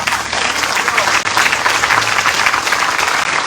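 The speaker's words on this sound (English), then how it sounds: "Can I get a clap on that?" Loud, dense audience applause at an interfaith vigil against gun violence, a continuous wash of many hands clapping at once for the full few seconds, with no voices standing out.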